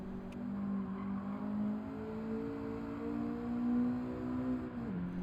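Race car engine in Gran Turismo 7 alternating between braking and accelerating, a steady loud droning whine whose pitch dips and climbs as the car slows and picks up power, with no voices.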